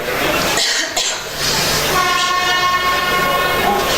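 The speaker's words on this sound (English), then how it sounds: "I thought that was a siren. That was just the train." A train rumbles past nearby, loud and steady, with rhythmic clattering of wheels on track and a sustained horn-like tone.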